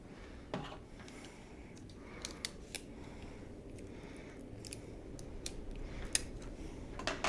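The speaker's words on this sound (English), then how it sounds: "Tape this up there so you can still see it." Tape is pulled and pressed onto paper in quiet, close sharp ticks and crackles, scattered irregularly over a soft hushed background with no talking.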